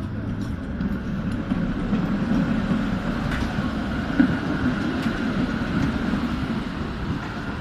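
A tram pulls away from a stop with a rumbling, rolling low drone and a few faint clicks and squeals, heard steadily from inside or nearby.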